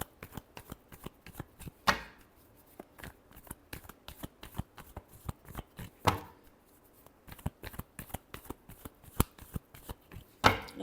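Tarot cards shuffled by hand, a rapid, irregular run of crisp close slaps and riffles with a few louder snaps, steady and without talk.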